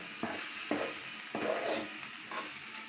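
Potatoes sautéing in a pan for a Tamil potato poriyal, a soft, fairly quiet sizzle with a few distinct scraping stirs spaced through a short stretch.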